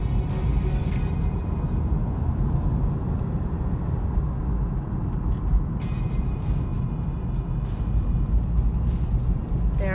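A few cars and vehicles pass on a nearly empty road in the Philippines during quarantine, a continuous low rumble of engines and tyres with occasional short high squeaks or brake hisses, steady and moderately close, with no voices.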